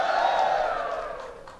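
A crowd at a Filipino rap battle event shouts and cheers in one sustained roar that slowly fades, loud and close, with no clear speech above it.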